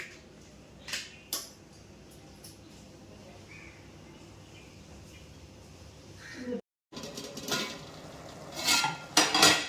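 A metal lid goes onto a cooking pot of cabbage and chana dal: a few clinking, scraping kitchen sounds, close and moderately loud, with a brief clatter near the end.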